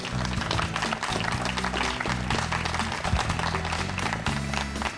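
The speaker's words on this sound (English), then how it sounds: "let's hear a round of applause for them" Applause from a crowd at an outdoor Open Streets community event, a dense steady wash of many hands clapping at once, loud and continuous throughout with a low rumbling layer underneath.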